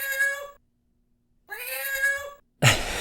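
A person imitates a cat, giving three meows: two drawn-out tonal mews separated by a short silence, then a rougher, breathier cry at the end, close and clear.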